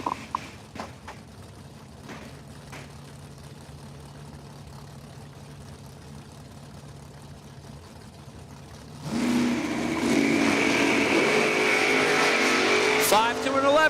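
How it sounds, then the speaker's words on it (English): Cars launch at a drag strip, a Firebird running against a 2000 Camaro: a low engine idle gives way halfway through to a loud, sustained roar of hard acceleration from both cars that holds to the end, with an announcer's voice over the first part. "Driving Sammy's Firebird, Dow 590. Going to take on Manginelli out of Morganville, New Jersey. 2000 Camaro, Dow 588."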